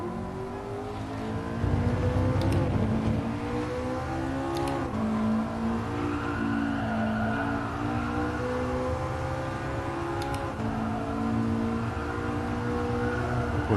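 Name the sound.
McLaren MP4-12C engine accelerating in video game GT Sport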